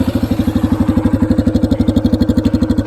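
A Yamaha XT250 single-cylinder motorcycle engine runs at a steady idle with an even, rapid thumping beat and some mechanical clatter, loud and close with no talk.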